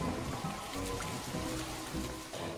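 Rain begins falling in an animated film, a steady broadband wash of drizzle and trickling water holding at an even, moderate level throughout.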